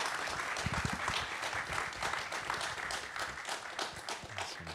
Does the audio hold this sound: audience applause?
yes